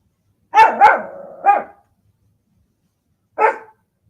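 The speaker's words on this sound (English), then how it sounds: "He just likes to bark." A dog barks close and loud, three quick barks in a cluster, then a pause of silence before one more single bark.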